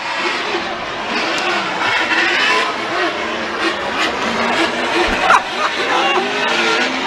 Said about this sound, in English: Vaughn Gittin Jr. leading that Monster Energy Nitto Tire Mustang.